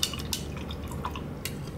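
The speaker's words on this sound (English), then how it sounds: "dump out my dirty water" Dirty paint-rinse water is dumped out, heard as a few close, sharp drips and splashes falling into a container over a faint background.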